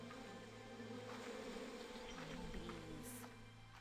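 Bees buzzing steadily in Slime Rancher 2 over game music and ambience, a continuous insect drone that holds level throughout.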